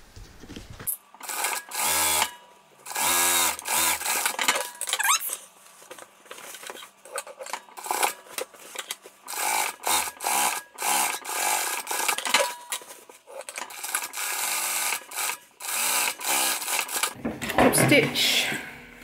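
A sewing machine top-stitches across a messenger bag seam in repeated fast bursts, pausing between runs, close and loud throughout.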